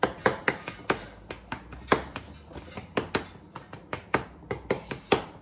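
Sharp, irregular taps and pokes on pastry dough in a home kitchen, a quick series of about twenty close, crisp knocks with short gaps and no talking.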